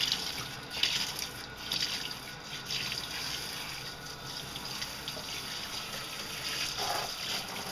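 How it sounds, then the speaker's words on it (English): A shower head buried in a dog's thick coat gives a steady, soft hiss of spraying water, fairly quiet and continuous, with faint dripping and no voices. "I can actually bury the head of the shower into his coat"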